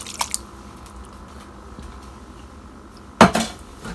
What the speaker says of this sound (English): So let's open that can of tomatoes and pop them in.